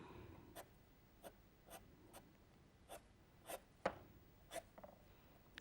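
Pastel pencil drawing short whisker strokes on paper for a Boston Terrier portrait, heard as faint, sparse scratchy flicks spaced about a second apart against a quiet background.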